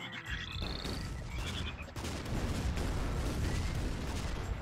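Frogs croak in the artillery game Shellshock Live, a brief run of quick chirping croaks near the start, then a dense, loud burst of blast-like noise fills the rest.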